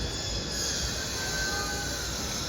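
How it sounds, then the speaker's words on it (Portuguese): A green commuter train pulls into Victoria Station in London, a close, continuous rumble of wheels and carriages with faint high squeal, no voices. "Esse trem que está chegando agora,"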